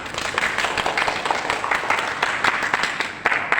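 An audience at a school closing ceremony claps in a dense, continuous burst of applause that stays loud and even throughout.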